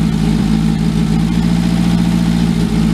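A cheap Chinese truck engine idles loudly and steadily up close, a constant low droning rumble with an even pulse and no talk over it.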